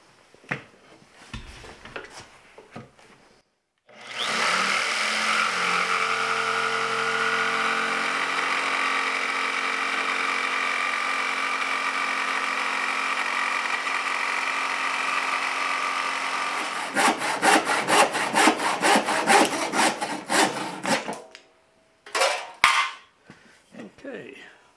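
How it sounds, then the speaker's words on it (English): Jigsaw cutting a curve into a wooden beam on a boat foredeck, a close, loud continuous buzzing cut lasting over ten seconds, then choppy stop-start bursts, with brief handling noises before and after. "So I'm going to cut this curve with the jigsaw."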